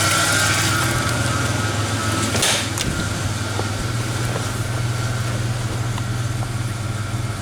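A 1988 Ford Ranger engine idles steadily and close by for the whole stretch, a constant low rumble with one brief louder swell partway through.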